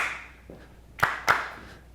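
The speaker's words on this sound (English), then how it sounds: "I personally like to clap on the first one, clap twice on the first one, and then just clap once on the second just to make it different." During a Watermelon Crawl line dance lesson, two crisp, close hand claps land in quick succession on the beat, with a faint tap just before and quiet room air in between.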